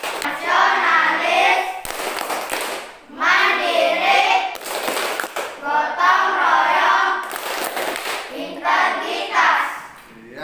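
A classroom of children performs the Tepuk PPK routine, clapping in rhythmic patterns while chanting words in unison in loud repeated bursts with brief pauses between phrases.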